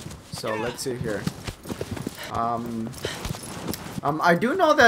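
Horse hooves clop at a quick gallop in the Shadow of the Colossus remake, a rhythmic patter running under someone talking steadily throughout.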